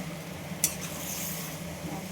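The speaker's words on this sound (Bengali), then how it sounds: "এবারে মাংসটা আমি ভালো করে একটু নেড়ে নিই" Meat being stirred in a cooking pot: a low, steady sizzle with a single brief scrape of the spoon early on, close and quiet.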